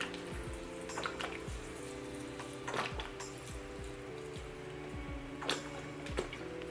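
Water is poured from a small container onto a Philodendron squamiferum potted in lava rock semi-hydro, giving a steady trickle with soft splashes and drips throughout.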